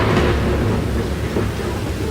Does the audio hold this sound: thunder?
yes